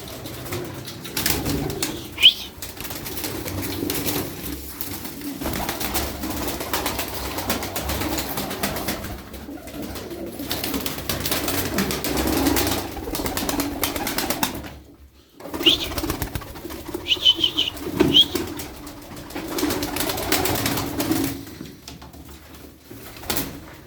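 Tumbler pigeons coo steadily in a loft, their soft low calls repeating throughout with occasional bursts of wing flapping and brief knocks, fairly close and without any talk.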